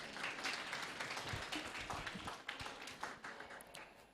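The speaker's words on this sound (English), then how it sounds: "I think we can give him a clap." An audience applauds a keynote speaker at a conference on nature and climate, giving steady, fairly faint clapping with scattered sharper claps throughout.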